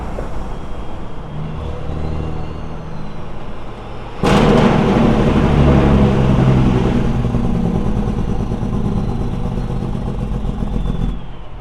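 A truck rolls through stop-and-go traffic on the 85 near Spartanburg, South Carolina, with a steady rumble. About a third of the way in the drone jumps to a louder, rougher roar, holds there, then falls away shortly before the end.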